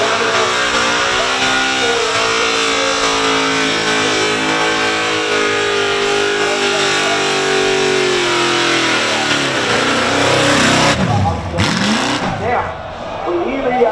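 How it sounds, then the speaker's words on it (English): A car engine at the Summernats burnout event revs loud and sustained, its pitch wavering and climbing before cutting back abruptly, with crowd noise and an announcer's voice underneath. "we hear the engine noise going away"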